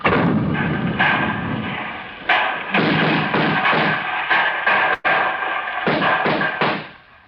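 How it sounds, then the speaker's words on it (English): Cannon fire in a radio drama staged at a street barricade: a series of deep booming thuds, roughly a dozen in irregular succession, loud and close with heavy low rumble between blasts, and no speech. "When I hear the first cannon, I'll know surely that he's dead."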